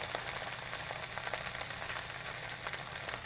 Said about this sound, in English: Cast iron skillet, get it really hot, and then apply pressure because you want to sear where you're placing the lettuce on the skillet.